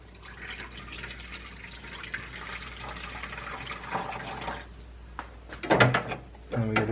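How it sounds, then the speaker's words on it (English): Water trickles and splashes as it is poured into the reservoir of an egg incubator, soft liquid pouring and dripping that grows louder with a few bursts of splashing toward the end. "So we want to fill this one up with water."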